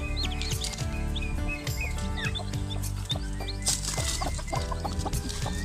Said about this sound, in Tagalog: ayan na po yung ating mga Rhode Island Red masisigla po